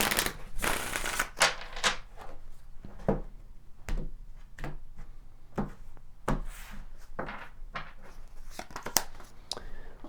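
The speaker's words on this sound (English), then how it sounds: "Let's pull some more tarot cards is what I meant to say." Tarot cards are shuffled and pulled in a quick, uneven run of crisp riffles, snaps and slaps, close and fairly loud throughout.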